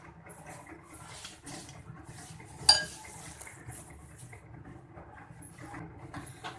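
A spoon works through a pulao marinade of yogurt and ginger-garlic paste in a bowl, with soft scraping and one sharp metallic clink midway, close and otherwise quiet.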